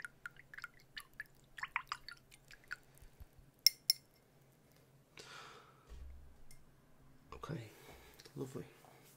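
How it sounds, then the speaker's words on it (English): Water splashing and dripping while golf balls are painted, close and intimate small drips and clinks scattered at first, then a longer wet splashing stretch toward the end. "Some water splashing sounds."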